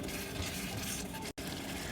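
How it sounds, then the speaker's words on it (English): Water is poured into a thick fish curry, a steady broadband rush and trickle that continues throughout, broken only by a brief cut near the end, with no talk. "Just add in water if you need to add in a little bit more extra."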